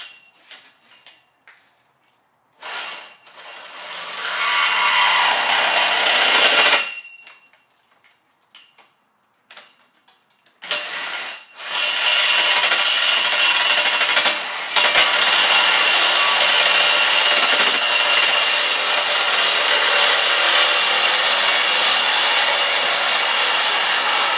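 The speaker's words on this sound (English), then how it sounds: "just keep cutting a foot off, and a foot off. And it's a sawzall, Andrew." A reciprocating saw cuts through metal tower pipe in bursts, a harsh buzzing rasp that starts and stops over the first half, then runs long and steady, loud and close.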